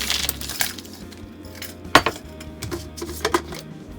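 Crushed ice tumbling into a container with peanut butter and other protein drink ingredients, a few sharp clinks and rattles of ice pieces against plastic, close and moderately loud.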